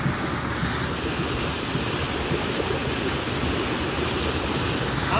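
Fast-flowing river water rushing through a riverside flour mill on the Tirthan river, a loud, dense, continuous roar close by and unbroken for several seconds, with no voices.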